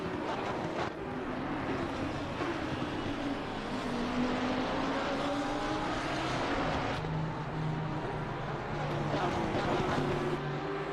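A race car engine in a sim racing game at Circuit of the Americas drones steadily at mid pitch, rising and falling with shifting revs under a broad rushing noise, continuous and moderately loud.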